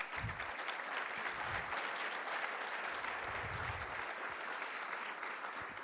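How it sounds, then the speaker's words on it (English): An audience at a mayoral press event applauds the senior leadership team and cabinet members, a sustained crowd clapping with faint low voices beneath, distant-sounding and quiet. "I want to give them a big round of applause today"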